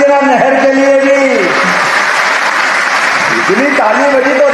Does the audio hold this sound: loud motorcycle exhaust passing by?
no